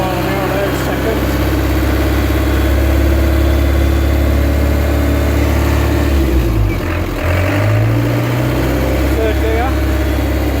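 An old car with an overdrive gearbox runs with a loud, close engine drone that dips and then climbs back during a gear change. Someone talks over the engine noise.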